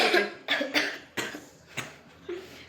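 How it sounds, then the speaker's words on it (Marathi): A series of about six sharp, hoarse coughs from a young girl, close by, coming in quick bursts with short pauses between them. "बिचारीला जर असा खोकला झालेला आहे"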